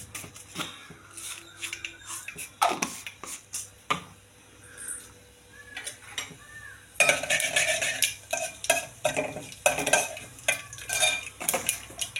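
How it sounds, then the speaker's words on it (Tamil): Mustard seeds and cumin are tempered in hot oil and stirred: sharp utensil clinks against the pan come first, then a louder, denser stretch of stirring and frying noise fills the last few seconds. "எண்ணெயை போட்டு கடுகு சீரகம் தாளிச்சிட்டு"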